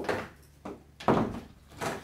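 Door thuds and rattles as a resistance band is anchored over its top edge, three separate knocks spaced across the moment, close by and fairly loud with no talking.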